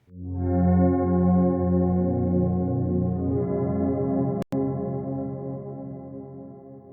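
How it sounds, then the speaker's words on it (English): A dark, sustained synth pad through a Headrush AmbiVerb pedal holds a low chord with a soft reverb tail, briefly cutting out for an instant before swelling back steadily. "you get a much darker kind of a keyboard or pad, what I would call traditional pad sound"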